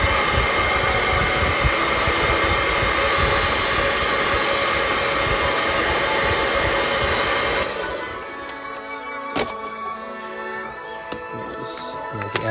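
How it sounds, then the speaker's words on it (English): A hair dryer blows steady, loud and close to dry paint on a Pokemon card, a constant broadband roar that cuts off partway through, after which quieter handling clicks and faint rustling follow. "I'm going to put the hair dryer on real quick just to dry it."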